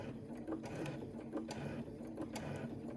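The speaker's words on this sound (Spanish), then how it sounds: "te aseguras de que le des el apoyo a la máquina de coser para que pueda ir sobre todas estas capas" A sewing machine stitches steadily through thick, layered fabric while a cosmetic bag is being made, with a continuous mechanical whir and rapid needle clatter that stays loud and close throughout.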